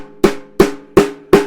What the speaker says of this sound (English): Here's the sound of a hot rod.